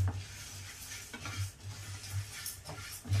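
Spices and urad dal are dry-roasted to golden in a pan for an all-purpose curry powder, with faint intermittent scraping and stirring strokes and a soft low hum, quiet and close with no talk.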